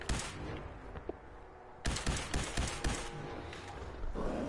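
Gunfire from a gun in Fallout 4 on the road to Kellogg, dense bursts of close shots in two loud clusters with a brief lull between, layered over low in-game rumble.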